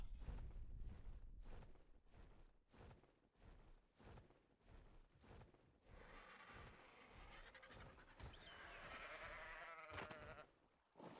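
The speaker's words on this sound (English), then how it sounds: "it's a sheep" A sheep in the video game ARK Survival Ascended bleating loudly and repeatedly, wavering calls over rhythmic footsteps and game ambience, the bleats clustering toward the end.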